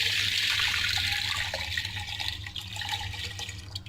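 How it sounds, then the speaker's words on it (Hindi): Full-cream milk, about 2 to 2.5 kg, poured from above into a pan set in a kadhai for gajar ka halwa, a steady close liquid gush that softens slightly toward the end. "अब दूध डालते हैं।"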